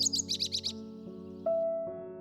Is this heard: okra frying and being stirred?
no